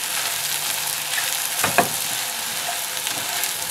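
Shakshuka ingredients frying in a pan give off a steady, close sizzle and crackle, with a couple of brief stirring scrapes partway through and no voices.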